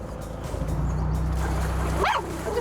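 A dog on a canal boat gives a short, sharp bark, reacting to propeller wash, over a constant low engine drone.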